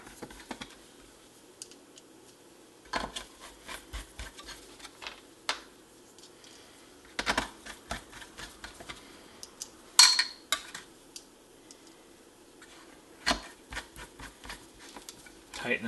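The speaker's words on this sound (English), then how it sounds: "We'll put the screws back in." Small screws clink and tick as they go back into a NuTone entry door speaker, coming in scattered close, light taps and short scraping bursts with quiet gaps between them.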